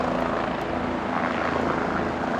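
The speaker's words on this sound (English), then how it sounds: "Helicopter." A helicopter flies overhead in New York City, giving a loud, continuous rotor thrum with a broad rushing roar that stays steady for the short stretch, with no voices over it.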